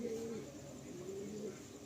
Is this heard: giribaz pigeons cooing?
yes